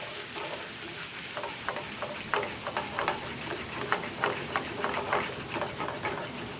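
Frothing butter sizzles in a pan with fondant potatoes, the steady frying hiss broken by a run of rhythmic scraping stir strokes that grows busier toward the end.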